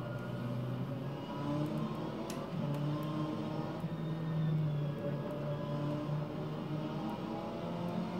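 BMW M6 GTE race car engine in the racing sim rFactor 2 at Hockenheimring, a steady droning engine note rising and falling in pitch through gear changes, moderately loud with a faint background hiss.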